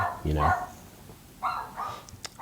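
A dog gives a loud nearby bark, then a couple of softer yips follow, while people chat in the same room.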